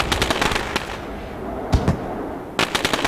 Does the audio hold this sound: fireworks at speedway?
yes